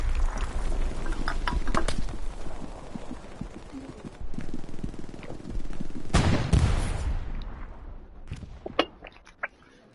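Gunfire in the World War II shooter Hell Let Loose: sustained bursts of rifle and machine-gun fire, loud sharp cracks and rattles throughout with a heavy blast midway, fading into scattered distant shots at the end.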